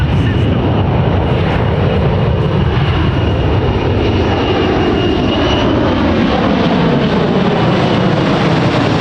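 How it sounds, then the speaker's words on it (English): A short takeoff and landing aircraft passing at low speed, around 160 knots, fully configured with flaps out at an air show in New York; a loud, sustained engine roar fills the whole stretch. "low-speed capabilities of aircraft as it flies 160 knots, fully configured with its flaps out"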